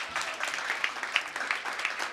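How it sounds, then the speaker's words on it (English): Audience clapping at an AI Camp demo day pitch for Skej, a fairly quiet, steady patter of many hands with a few sharper claps standing out, continuous throughout without talk. "Yeah, clapping."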